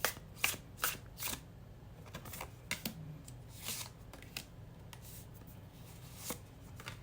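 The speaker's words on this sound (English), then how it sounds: "let's now pick up your tarot cards" Tarot cards shuffled close by in quick irregular riffles and taps, quiet overall, with short crisp bursts separated by softer handling and no speech.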